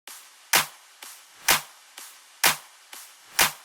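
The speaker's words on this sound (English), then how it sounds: "Layer drop claps. A MESTO clap. A crisp clap, and a deep pre-shift clap." Sharp electronic claps for a melodic deep house track hit alone in a steady rhythm, two alternating layered tones, crisp and deep, each with a crisp attack and short decaying tail.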